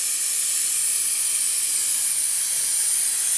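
Continuous loud hiss of a vacuum brake bleeder drawing fluid through a motorcycle's front brake, steady and unbroken, close up with no talk.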